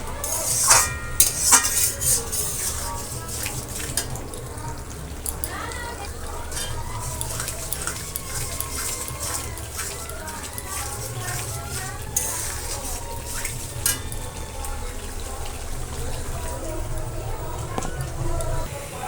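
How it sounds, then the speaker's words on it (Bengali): Spice masala being stir-fried in a pan for a chicken dish, with a spoon scraping steadily through a soft sizzle for the whole stretch and a few sharper clatters near the start, while a voice talks faintly underneath. "এবার মশলাটা মিনিট 5 কষতে হবে ভালো করে।"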